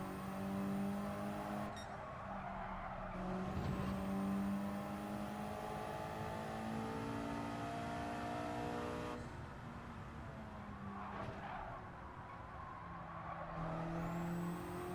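A race car engine in the video game Gran Turismo 7, on a loosely gripping car that slides about, drones at a moderate level with rising revs and a couple of clear gear shifts, alone without speech.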